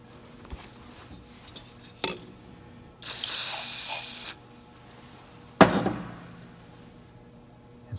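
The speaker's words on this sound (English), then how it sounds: "It's holding the WD-40 in there." WD-40 is sprayed into an original, unmachined 125 engine: one steady hissing burst of about a second, with a clatter of metal before and a sharp knock after, close and fairly loud.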